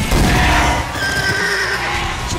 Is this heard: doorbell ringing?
no